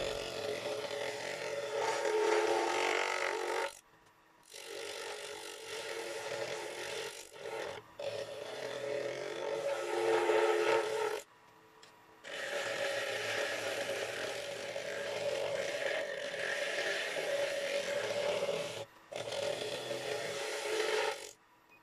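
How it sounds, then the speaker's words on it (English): A carbide square cutter roughs cured CA glue mixed with glitter off a turned wooden bowl, giving steady scraping and rubbing in several long passes broken by short pauses. "I start by using the carbide square cutter to rough off the CA"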